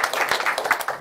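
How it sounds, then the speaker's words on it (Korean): A church congregation gives welcoming applause during a Sunday worship service, a dense close burst of many hands clapping with no talk over it. "자, 우리 저기 환영의 박수 한번 드리겠습니다."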